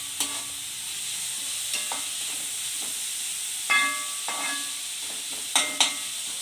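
Food frying in coconut oil in a pan hisses in a steady, close sizzle while a utensil stirs it, adding intermittent scraping clicks and bursts of louder spatter.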